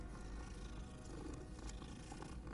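Cat purring in the Hogwarts Legacy video game, a faint, continuous low rumbling purr that holds steady without pauses.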